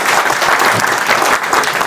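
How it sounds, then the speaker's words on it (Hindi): An audience at a Skydecor Elegant Laminates company event in a Varanasi hotel claps loudly and enthusiastically. The applause is close and full throughout this short burst. "इस सबके लिए मैं चाहता हूं कि आप लोग जोरदार तालियां दें"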